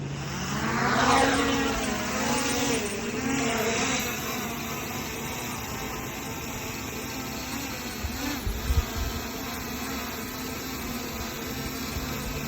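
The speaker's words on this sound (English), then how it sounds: "What to do if an airplane approaches your drone." A propeller airplane drones as it approaches and passes overhead, its engine pitch bending as it goes by, then a steady hum continues.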